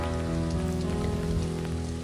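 Steady, dense rain patters down over a cold pasture where sheep graze, a loud even hiss filling the scene from start to end without a break.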